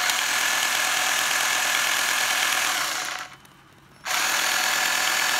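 A Japanese hammer drill runs steadily and loudly, a dense whirring buzz that cuts out briefly near the end before starting up again.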